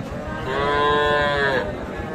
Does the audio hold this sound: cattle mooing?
yes